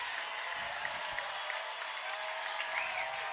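Steady applause from a crowd at a college softball game between Alabama and Ole Miss, broad and continuous at a moderate distance, with faint cheers rising within it.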